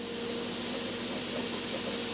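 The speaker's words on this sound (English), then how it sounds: "you hear that juicy sizzling sound" Turkey burgers sizzle steadily in a hot pan, a constant bright crackling hiss heard up close with no voices.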